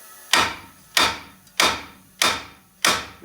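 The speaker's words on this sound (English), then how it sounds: "We're gonna hit it right on the steering knuckle here." Hammer striking a steering knuckle to free a tie rod end, five sharp metallic blows at an even pace about 0.6 seconds apart, each ringing briefly before fading, close and alone.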